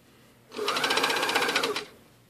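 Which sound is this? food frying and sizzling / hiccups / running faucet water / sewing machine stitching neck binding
sewing machine stitching neck binding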